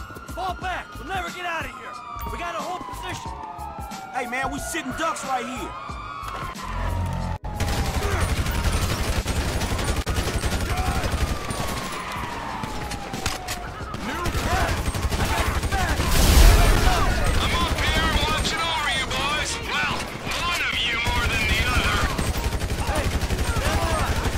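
Rapid bursts of gunfire in GTA 5 crack continuously through a loud, dense mix of game noise, with sirens wailing and someone speaking over the action.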